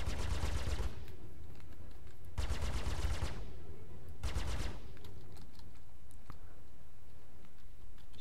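Gunfire strikes a spacecraft in Star Citizen Arena Commander, three loud rapid bursts of rattling impacts, each lasting about a second, separated by quieter cockpit hum and faint clicks.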